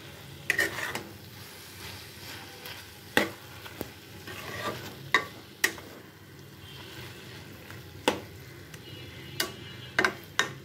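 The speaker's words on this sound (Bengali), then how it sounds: "এবার এর মধ্যে আমি ঘি অ্যাড করে দেবো ঘিটাকে নাড়িয়ে চাড়িয়ে এর সঙ্গে মিশিয়ে দেব" Ghee stirred into a cabbage and prawn ghanto in a pan, with soft background sizzling and sharp, spaced clacks of a spoon against the pan, close and fairly quiet.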